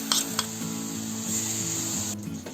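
Ground gravy stirred into masala frying in oil in a pan for a raw papaya kofta curry: steady close sizzling with soft scraping strokes and a faint tonal hum underneath.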